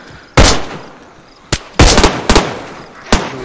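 Guns fire in DayZ on the Livonia map: five sharp, loud shots ring out alone, with uneven gaps between them and short echoing tails.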